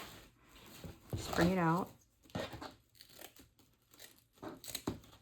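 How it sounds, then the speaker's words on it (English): Scissors snip and crinkle through deco mesh for a farmhouse wreath in a few short, papery bursts, with a person talking over the cutting. "Let me take my scissors. Going to cut."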